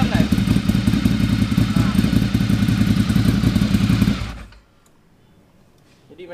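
Ducati Monster 1100 Evo motorcycle engine running, a loud, dense, rapidly pulsing rumble up close that cuts away abruptly, leaving quiet, with a brief word spoken.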